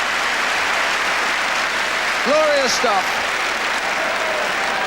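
A football crowd at a Tottenham match applauds in a loud, sustained wash of clapping that fills the whole stretch, with a commentator speaking briefly over it.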